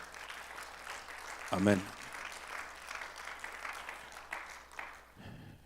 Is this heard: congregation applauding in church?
yes